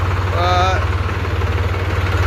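A 3-cylinder, 42 HP Solis 4215 tractor engine idles with a steady low, pulsing rumble, loud and close; a voice briefly sounds over it near the start.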